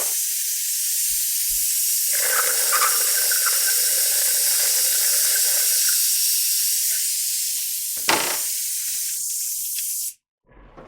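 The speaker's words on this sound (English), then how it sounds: "handy air assist bleed system. Go ahead and empty out the master reservoir." An air-assisted brake bleed system hisses steadily while emptying the brake master reservoir on a 2013 motorcycle, with a wetter gurgling suction sound in the middle and a brief clatter near the end before it cuts off.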